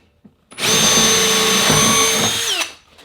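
A power drill bores through aluminum crown molding from the back side, running at a steady, loud whine for about two seconds before winding down.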